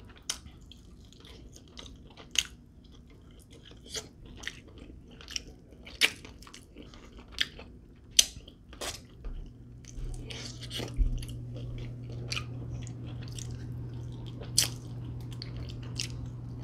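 Wingstop chicken wings are bitten and chewed up close, with sharp crunchy bites every couple of seconds over a quiet room and a low hum that rises partway through.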